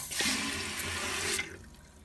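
Water hisses into a toilet tank as it refills, then cuts off abruptly when the float valve is lifted, leaving a faint trickle. The sound is close and quiet, with no talking.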